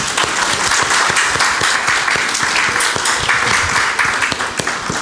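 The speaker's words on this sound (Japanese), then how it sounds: "皆さん拍手を。" A church congregation breaks into dense, steady applause that continues at full strength for about five seconds, close and loud, with no speech over it.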